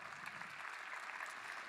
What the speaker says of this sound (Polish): dla nich wielkie brawa